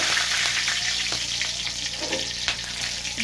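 Whole garam masala spices such as nutmeg, mace and black cardamom fry in oil with dried chillies, making a loud, continuous crackling sizzle with light stirring taps throughout.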